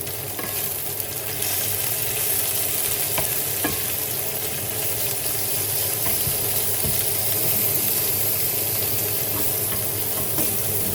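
Onion and garlic sizzle steadily in a pan for a Filipino binagoongang kamatis, a close, continuous frying hiss with faint stirring scrapes and no talk.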